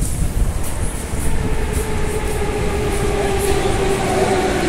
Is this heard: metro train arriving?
yes